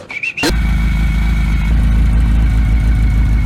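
A 1965-era Fiat 850 sports car engine, started after a short electric whine, then idling in a loud, steady, close low thrum.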